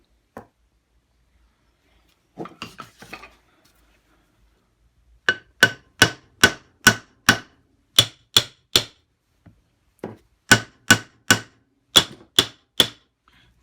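Hammer blows strike repeatedly and evenly on metal parts during reassembly of a three-phase Brook motor for a Harrison 11 lathe, loud and close in two fast bursts of sharp knocks after some faint fiddling.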